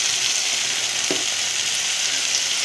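Noodles fry with soy sauce, red chilli sauce and tomato sauce in a pan, a bright, even sizzle that holds steady throughout, with one brief knock partway through and no talk.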